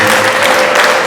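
Audience in a church clapping loudly and close, a dense burst of applause filling the whole brief moment.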